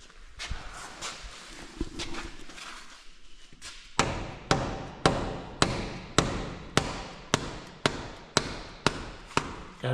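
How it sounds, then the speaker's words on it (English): A plastic mallet taps the end of a Jeep part in a workshop: about a dozen firm, evenly spaced knocks, close and clear, after quieter shuffling and handling noises. "I just tap on the end of it with a plastic mallet"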